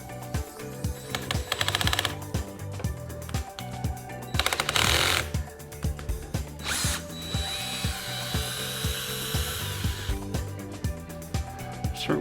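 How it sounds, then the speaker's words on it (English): Cordless drill fitted with a T20 torx bit, set to low, backing screws out of a Magicycle Cruiser e-bike motor: repeated short whirring bursts with ratcheting clicks, close and fairly loud, no talk. "got my drill here with my T20 torque on it. I've set my drill to low."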